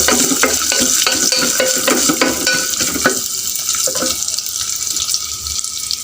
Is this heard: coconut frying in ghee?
yes